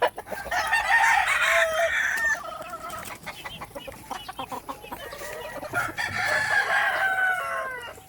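A rooster crows loudly and close by, twice, with chickens clucking around it at a farm coop. No talking.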